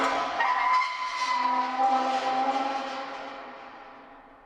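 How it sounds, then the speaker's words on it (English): A rusty gate creak sample, played back through a sampler and reshaped with effects, rings out as a sustained tonal, whistle-like whine that fades gradually over a few seconds. "this one comes from the Rusty Gate sound that you've heard before, after it was imported into that sampler track from Cubase"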